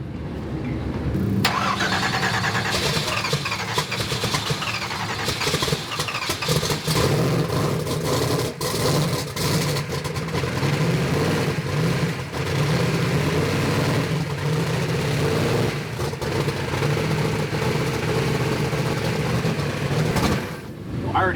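A 4000-horsepower Apache truck engine running Holley EFI cranks and catches at the start, then holds a loud, rough, lumpy idle throughout with occasional surges, close up and constant.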